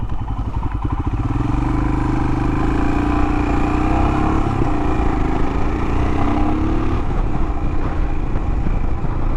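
A Royal Enfield Himalayan motorcycle being ridden, its engine thrumming loudly and steadily throughout with a rumbling exhaust and slight shifts in pitch as it accelerates.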